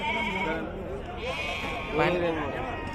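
Goat kids bleat at a livestock market, a few short wavering calls rising over steady crowd noise and nearby talk.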